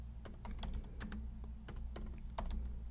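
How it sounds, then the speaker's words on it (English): Computer keyboard typing a server install command, a quick irregular run of soft key clicks, close but quiet over a low steady hum, with no talking. "So let's go ahead and do sudo yum install"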